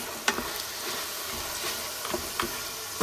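Chicken with mixed vegetables and corn cooking in a pan at home, a steady close sizzle with a few brief stirring clatters over it and no talking.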